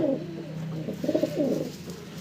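An old-line Lal Jiriya pigeon coos close by with soft, repeated low rolling calls over a quiet background.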